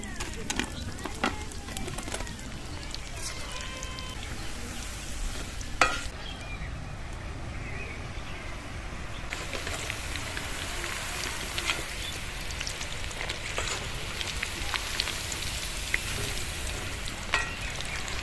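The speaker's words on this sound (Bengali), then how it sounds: "এবার চিকেন পকোড়াগুলো আমি আর একবার দিয়ে ভেজে নেব।" Chicken pakoras fry a second time in hot oil with a continuous crackling sizzle, broken by occasional sharper pops and clicks of stirring, close and steady throughout.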